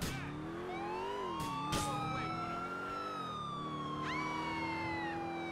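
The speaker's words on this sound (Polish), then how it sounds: "Syrenę chciałem włączyć!" Police car siren in the game GTA IV wails with rising and falling sweeps, steady and prominent throughout, with brief clanks mixed in.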